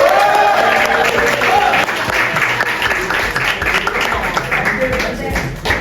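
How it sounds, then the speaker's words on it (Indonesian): A crowd of students claps loudly for newly announced student council leaders at a school election, with a dense burst of applause that slowly thins while voices and cheering carry over it. "Tepuk tangan semuanya"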